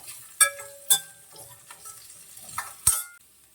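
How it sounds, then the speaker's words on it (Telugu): Cauliflower (gobi) pieces fried in a pan, with a few sharp utensil scrapes and knocks against the metal over a faint, quiet sizzle, no voices. "టూ మినిట్స్ ఫ్రై చేసుకుందాం."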